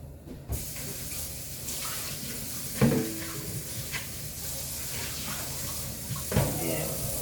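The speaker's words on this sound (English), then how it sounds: "I'm gonna add some water." Water is poured into a cooking pot on a home stove, making a steady running splash with a few brief clunks of the pot and utensils.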